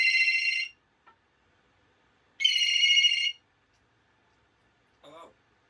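A pet bird mimics a phone ringtone with two loud, bright electronic-sounding trills separated by a pause, followed by a brief softer warbling call, in an otherwise quiet room.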